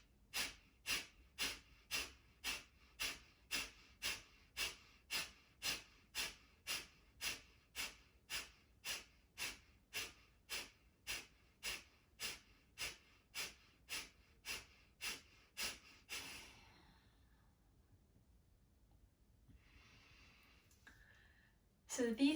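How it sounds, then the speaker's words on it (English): Kapalabhati breathwork: about thirty rapid, forceful nasal exhales at an even medium pace, each a sharp puff, close and clear, then a quiet pause and a deeper breath at the end. "these were 30 rounds of Kapalabhati in a, I would say, medium pace"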